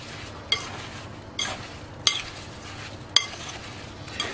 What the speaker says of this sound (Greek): Έτσι, ανακατεύουμε καλά.